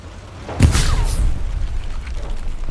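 An anti-tank mine detonates under a tank in Hell Let Loose, a single deep boom with a heavy low thud, then a rumbling tail that fades over the next two seconds. Nobody speaks.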